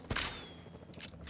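Gunfire in the video game Jurassic World Evolution 2: a loud, sharp burst of shots at the start, then a quieter pair of cracks about a second later, with no voices.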